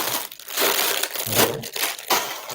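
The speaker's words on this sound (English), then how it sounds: "Just bags of Lego shuffling around." Crinkly plastic rustling and shuffling of bags of Lego bricks being moved around up close, in irregular bursts with no talking.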